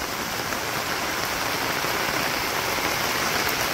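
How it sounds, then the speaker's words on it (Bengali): Heavy rain falls in a dense, steady hiss that stays loud and unchanged throughout, with no one talking. "এত সময় যে বৃষ্টি হলো না সেই রকম বৃষ্টি সুন্দর বৃষ্টি হয়ে"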